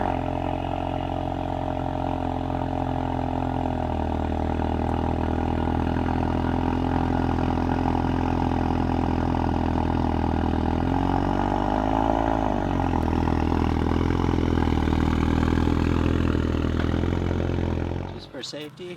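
A Ford Focus RS with its stock exhaust idles steadily nearby, a deep continuous engine drone with a brief swell in revs midway before cutting off near the end.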